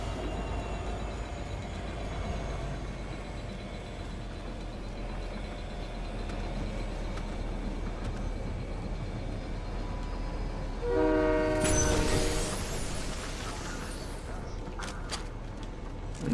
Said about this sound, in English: We're gonna disembark the train now, because that train's gonna head round towards the storm now.